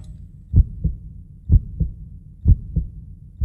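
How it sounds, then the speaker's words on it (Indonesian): A close, deep heartbeat thumps in steady lub-dub pairs, three double beats evenly spaced, soft and low with no talking over it. "Kamu bisa ngerasain nggak detak jantung aku sekarang?"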